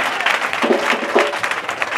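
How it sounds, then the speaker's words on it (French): Church congregation at a Sunday worship service applauding the worship leaders: steady, dense clapping from many hands filling the room for about two seconds, with faint crowd noise underneath. "Vous pouvez acclamer vos adorateurs."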